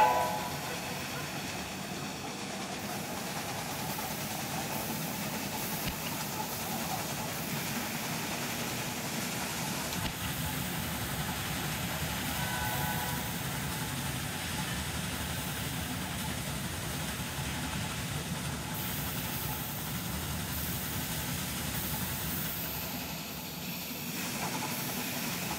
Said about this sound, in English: This is the John Bull locomotive.